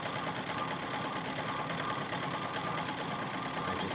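A Singer 66 treadle sewing machine stitching free-motion quilting in pebble and circle patterns, a steady, continuous fast mechanical whir and needle patter held at even loudness throughout, with no talking.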